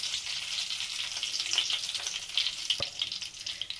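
Bay leaf and whole cumin sizzle in hot oil for a chicken curry, a steady hiss of frying dotted with sharp little crackles and pops, close and alone.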